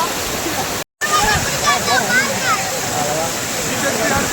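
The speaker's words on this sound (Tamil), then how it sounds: "பாருங்கள் தண்ணி எப்படி சாடுதுன்னு" Water gushes and roars continuously at the Kuthrapaanjam waterfall bathing spot, loud and close, with a brief dropout in the recording near the start and splashing textures throughout.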